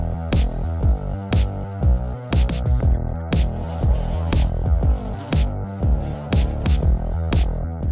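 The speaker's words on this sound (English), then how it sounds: "we let her warm up here for a little while" A Husqvarna 395 XP chainsaw idles while warming up, a loud, close, continuous engine drone with a throbbing pulse and sharp recurring spikes throughout, no voices.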